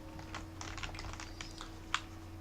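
Computer keyboard keys tapped in a loose, irregular burst of clicks, with one sharper press near the end, close and fairly quiet over a low steady hum, with no talking.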